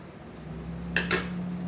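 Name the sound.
spoon scooping meringue mix onto a tray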